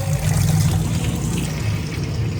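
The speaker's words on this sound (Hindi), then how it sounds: "इसमें पानी डालते हैं, ठीक है ना?" Water pours steadily into a container at home, a continuous splashing and trickling flow heard close up and fairly loud, with no one talking.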